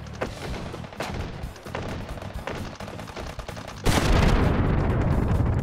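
A barrage of rockets spawned in Hot Dogs, Horseshoes & Hand Grenades, a VR shooter, goes off as a rapid series of loud, sharp blasts. It then swells into a sustained roaring explosion with no talking.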